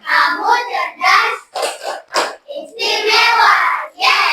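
Children in a classroom give a rhythmic appreciation clap, loud and close, with the claps falling in time with a group chant of voices.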